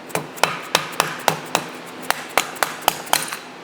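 Sharp metallic strikes ring out in a steady series, about a dozen hammer-like blows against metal, close and loud, as a split bearing is driven off a Challenger rear-end shaft.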